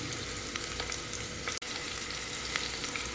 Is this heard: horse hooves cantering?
no